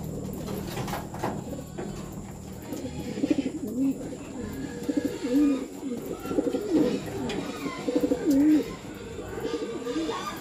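Racing pigeons at the loft give soft, rolling coos in repeated bursts, close by over a low background hum, with faint scattered chirps.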